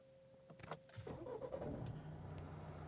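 Mahindra XUV700 SUV engine starting from fully off: a brief starter crank followed by the engine catching and settling into a steady, smooth idle, recorded close by.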